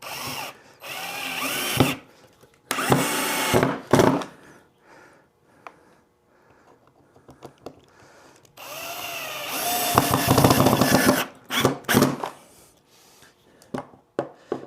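Power drill driving screws into wood, several loud close bursts of whining motor separated by pauses with faint handling noises.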